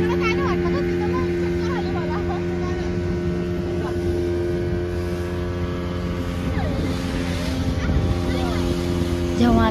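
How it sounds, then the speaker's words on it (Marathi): A motorboat crossing the sea off the Konkan coast, its engine holding a steady, close droning hum for the whole stretch, with a faint murmur of voices beneath it. "फक्त बोटिंगचा आवाज चालू होता"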